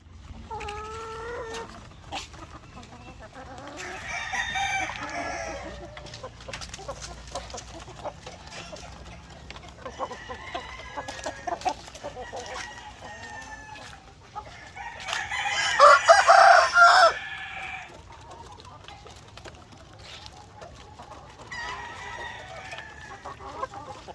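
A rooster crows several times inside a tarpaulin-covered poultry breeding pen, the loud, drawn-out calls standing clear against a quiet background, with softer clucking from hens between them.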